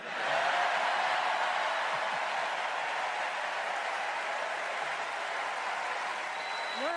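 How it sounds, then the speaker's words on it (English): Sustained applause from an audience at a political event, a dense steady wash of many hands clapping with no voices standing out, fairly loud throughout. "Notice all these morons clapping"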